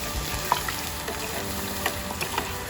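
Beancurd fries in a pan in a hotel kitchen, a close, continuous crackling sizzle with a few sharp pops and light stirring, no voices over it.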